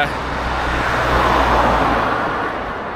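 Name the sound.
road traffic passing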